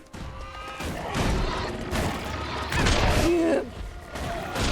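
Repeated explosions in the fantasy online game Guild Wars 2 in the Brisban Wildlands crash in quick succession, loud and close, with a brief spoken remark among them.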